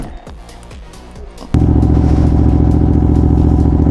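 A Ducati V2 motorcycle engine cranks over briefly, then catches and settles into a loud, steady warm-up idle with a dense throbbing pulse, close by.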